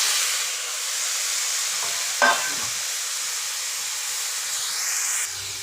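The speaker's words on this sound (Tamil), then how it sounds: "இப்போ தக்காளி போட்டு கொஞ்சம் வதக்கியிருக்கோம்" Large tomatoes and grated coconut sautéing in a pan for tomato chutney, a steady close sizzle and hiss with one brief clatter of stirring partway through.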